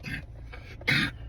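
A child coughs indoors, giving two short, rough throat-clearing coughs a moment apart, close to the listener against a quiet room.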